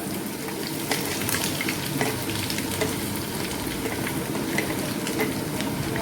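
Ginger and garlic sizzle steadily in a hot pan for Indian-style pepper chicken, a dense continuous frying hiss with faint stirring scrapes, close and even throughout, no voices.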